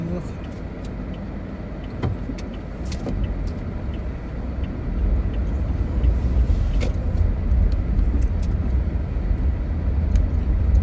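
Car traffic on a Los Angeles street, with a vehicle's broad engine and tyre rumble swelling from about five seconds into a steady nearby pass over constant road noise, plus a few faint clicks.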